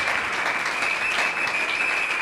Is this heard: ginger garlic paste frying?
no